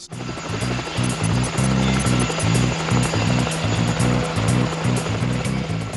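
A Black Hawk helicopter's rotor thumps in a rapid steady rhythm over a loud engine whine, sustained and close.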